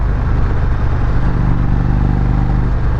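An Indian Roadmaster motorcycle climbs uphill under steady throttle, its engine a loud continuous low rumble close to the microphone, with wind noise and no talking.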